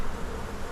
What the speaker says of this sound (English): so far there are bees everywhere